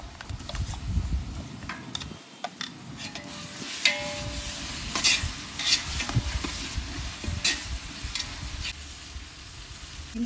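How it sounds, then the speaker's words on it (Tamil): Ginger garlic paste fries with onions in a pot for mutton biryani, a crackling sizzle broken by repeated scraping stirs and soft clanks of a spoon against the pot, with no voices. "இப்போ இஞ்சி பூண்டு பேஸ்ட் போட்டுக்கிறேன்."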